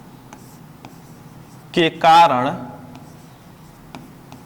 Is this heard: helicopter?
no